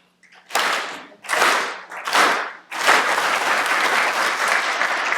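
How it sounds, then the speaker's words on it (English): An audience performs the Unity Clap, a rhythmic group clap originating with farm workers, at a Latinx Heritage Month brunch: three slow, loud waves of clapping that build, then break into sustained, dense applause. "And it's called the Unity Clap, and originated with the farm workers."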